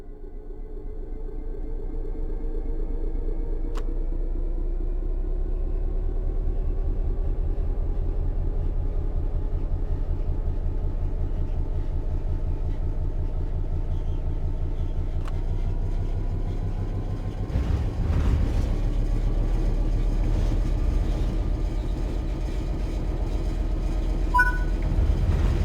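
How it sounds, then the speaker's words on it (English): A simulated train in Train Sim World 3 pulls away from a stop, a steady low rumble and engine drone building gradually as it gains speed, with faint clanks and hisses near the end; no one talks. "Apply some throttle to get the train moving."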